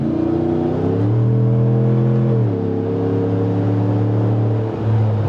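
A Jeep Gladiator with a 5.7-liter Hemi engine and an 8-speed transmission pulls hard, its loud, deep engine drone rising steadily and dipping briefly at each gear change.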